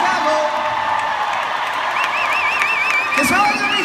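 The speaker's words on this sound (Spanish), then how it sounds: "Un fuerte aplauso" A big concert crowd at a show in Chicago applauds and cheers continuously, a loud wash of clapping with whoops and a whistle rising above it.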